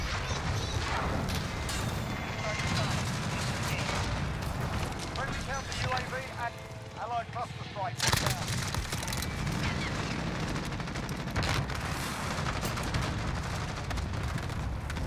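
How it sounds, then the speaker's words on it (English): Uzi submachine gun loaded with stopping power rounds firing in a video game, dense bursts and impacts blending into constant loud game noise, with a sharp heavy crash around the middle. "Uzi's pretty badass with the stopping power rounds, man."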